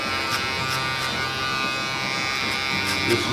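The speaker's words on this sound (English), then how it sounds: "Maybe a little bit of the shaver, very light." An electric shaver with detachable blades buzzes steadily and close up during a haircut, a continuous motor hum with slight shifts in pitch as it moves.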